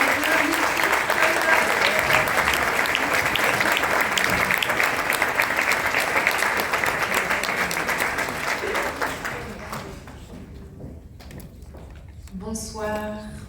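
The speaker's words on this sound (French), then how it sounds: "sous un tonnerre d'applaudissements" An audience at a wax-fabric fashion show in Switzerland breaks into sustained, loud applause that slowly fades, and a voice begins speaking near the end.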